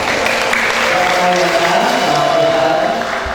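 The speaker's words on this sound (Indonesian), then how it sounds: "Kasih tepuk tangan dulu buat Tuhan." A congregation at a Christmas 2025 church gathering with a guest star claps together in a dense, continuous roar of applause, with voices and faint tones mixed in throughout.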